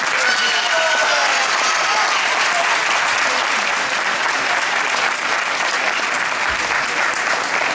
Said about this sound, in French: On peut encore une fois leur faire un triomphe et les applaudir très très fort.